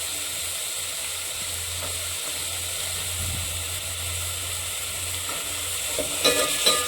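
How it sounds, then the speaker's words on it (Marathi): Peas and field bean seeds sautéed with masala in a pan give a steady, fairly even sizzle and hiss, with a few faint scrapes of stirring toward the end and no speech. "वाटाणे पावट्याचे जे दाणे घेतले होते ते आपण त्यामध्ये घालून घेऊया आणि परतून घेऊया"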